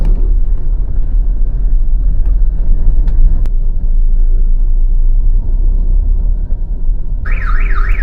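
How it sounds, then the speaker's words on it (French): A low engine rumble idles steadily, then a car alarm bursts in near the end with a loud, warbling siren that cannot be switched off, at Borobudur, Indonesia. "Je suis pas capable d'arrêter le système d'alarme."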